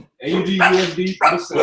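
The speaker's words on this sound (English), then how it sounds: "Sorry for the dogs." Dogs bark in the background, loud and close, in a few bursts that overlap a voice talking throughout.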